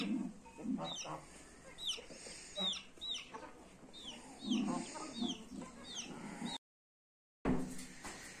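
Geese and chickens cluck and squawk at feeding in uneven bursts at moderate distance in a village yard, then the sound cuts out briefly before resuming.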